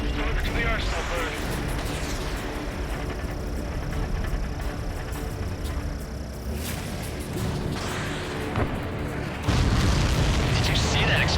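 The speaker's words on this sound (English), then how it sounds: "Did you see that explosion?" A deep boom from an Ace Combat 7: Skies Unknown explosion rolls out amid dense, loud aerial battle noise, with a sharper burst near the end.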